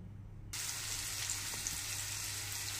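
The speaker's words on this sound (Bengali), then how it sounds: "এবার ওলগুলো ভেজে নেব ওই মাছের তেলের মধ্যেই" Pieces of elephant foot yam drop into hot oil left over from frying hilsa fish, setting off a sudden loud burst of sizzling that holds as a dense, steady hiss.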